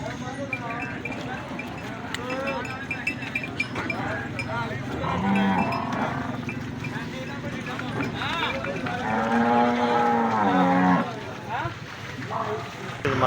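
Buffaloes at a busy livestock market in Kharian, lowing and bellowing amid a crowd, with livestock sounds and possible cowbell clanks under continuous chatter and bargaining voices.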